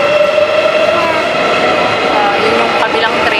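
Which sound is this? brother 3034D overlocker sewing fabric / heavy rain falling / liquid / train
train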